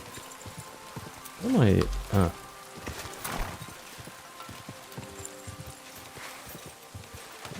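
A horse gallops in the video game Kingdom Come: Deliverance 2, with quick repeated hoofbeats running steadily through the scene while a person briefly speaks over them.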